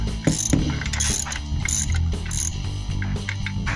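A hand ratchet works the brake master cylinder nuts on a 1974 Chevy Monte Carlo, giving a close, steady run of rapid clicking pawl ticks that lasts throughout with no talk over it.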